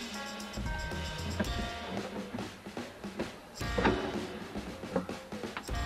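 A DIY-built drawer holding a bathroom sink slides open and shut inside a campervan conversion, with wooden runners rumbling and clunks as it stops, sounding close and moderately loud, no talking.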